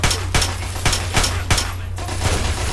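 Pistol gunfire in Fallout 3, about five sharp shots spaced roughly half a second apart over a steady low hum, with no voices.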